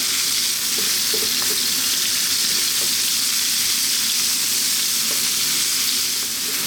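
Carrots and pork stir-frying in a wok over maximum heat, giving a steady loud sizzle and hiss throughout with faint stirring clatter and no talk.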